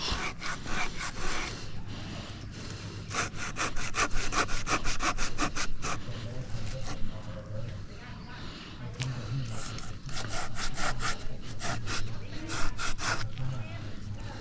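A hand saw rasps back and forth through a dry, dead durian tree branch in steady rapid strokes, close by, with brief pauses and some breathing and rustling in between.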